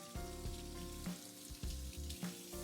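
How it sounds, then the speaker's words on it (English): A crab is rinsed under running tap water, giving a steady, close hissing rush with several sharp splashy bursts and short dips as the crab is turned in the stream. "Now we're going to rinse it off."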